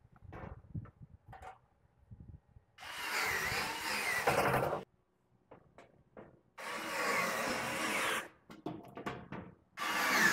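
Power drill driving screws into metal wall cabinet panels, two sustained whirring bursts of a couple of seconds each, with quiet clicks and handling noises between them, faint and close.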